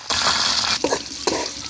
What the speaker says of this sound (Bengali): মুরগিটা ভাজিয়ে লাইছি, কিন্তু বেশি ভাজানো যাইবে না।